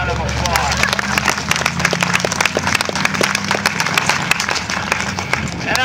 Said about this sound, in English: Let's give Senator Barnes another round of applause.